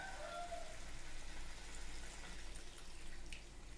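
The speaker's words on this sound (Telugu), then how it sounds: "నేను కొంచెం వాటర్ వేసుకుంటున్నానండి" A little water is poured into a pan of potato kurma, giving a faint, steady wash of water noise at low volume throughout, with no talking.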